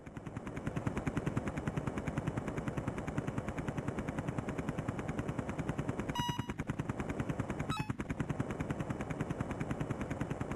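Rapid gunfire in the Amiga game Zeewolf 2 while blowing up amphibious enemy tanks, a fast continuous rattling stream of shots with a couple of brief sharp bursts partway through, quiet and without talk.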